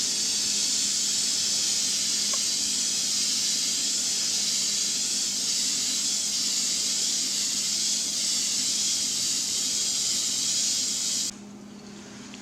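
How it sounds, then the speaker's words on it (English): Aerosol spray paint hissing steadily onto a water surface for hydro dipping a deer skull, a close, continuous broadband hiss that cuts off abruptly near the end. "make sure you keep the spray paint a little ways away from the water"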